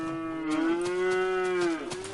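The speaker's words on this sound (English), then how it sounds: "Apparently, I guess you take a bucket to a cow." A single long cow moo in the Minecraft video game, a steady, loud, close lowing tone held for nearly two seconds before trailing off, with no talk over it.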